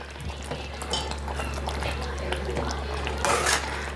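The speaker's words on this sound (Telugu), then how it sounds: "ఇందులో కొంచెం కస్తూరి మేతి వేసి బాగా కలుపుకోవాలి" A spoon stirs capsicum and sweet corn curry with kasuri methi in a pan, giving soft scraping and clinking over a low steady hum, with a louder scrape near the end.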